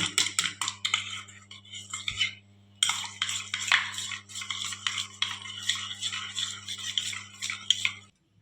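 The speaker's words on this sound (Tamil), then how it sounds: "இந்த மாதிரி தான் நல்லா லிக்யூடாக கட்டி இல்லாமல் கலக்கிக்கணும்" A spoon stirs homemade masala health-mix flour into liquid in a cup or pot, quick rhythmic clinking and scraping close up over a steady low hum, with one brief pause.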